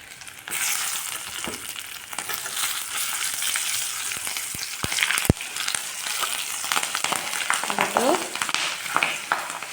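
Green chillies drop into hot oil for a fish head curry, bursting into loud, steady sizzling and crackling, with a few sharp stirring knocks in the middle and continued frying to the end.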